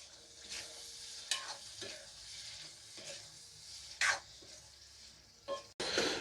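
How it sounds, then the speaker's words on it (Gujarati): Tomato gravy being stirred in a pan, a soft simmering sizzle broken by repeated scraping strokes of a spoon at irregular intervals, with a louder clatter just before the end. "હવે તેને આપણે સારી રીતે હલાવીને મિક્સ કરી લેવાનું છે"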